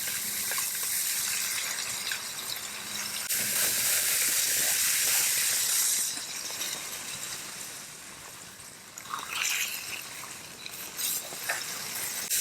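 Bacon sizzles on a 22-inch Blackstone Culinary griddle with a broad, steady hiss that swells and fades, with scattered crackles and pops up close.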